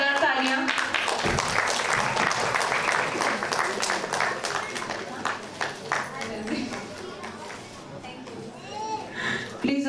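Loud audience applause at a cultural trust's annual day celebration, sustained dense clapping filling the hall for several seconds with children's voices and chatter mixed in, tapering slightly toward the end.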